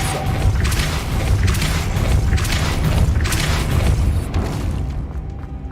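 Depulso force spell cast in Hogwarts Legacy, a dense, booming magical blast with rumbling low end and repeated bright bursts roughly every second, loud and continuous without pause.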